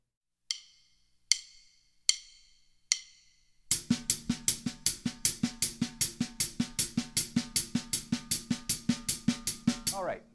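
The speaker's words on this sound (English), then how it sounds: "leaving the right hand here, and the left hand on the snare drum still as ghost notes" Four sharp clicks count in, then a steady drum groove starts: a constant stream of hi-hat hits over a snare with quiet ghost notes, close and loud, no talking.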